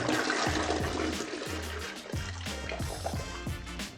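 Waste is poured out of a portable truck toilet, a continuous gurgling, glugging stream of liquid with rhythmic sloshing pulses, close by and steady throughout.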